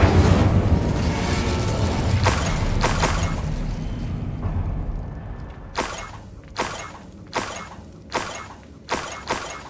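Incendio fire spell cast in the video game Hogwarts Legacy, a sustained fiery rush that fades out, followed by a series of short, sharp magical bursts in quick succession.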